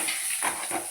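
Egg frying in a pan with turmeric and salt being stirred in, a close hissing sizzle broken by short scraping strokes of a utensil against the pan.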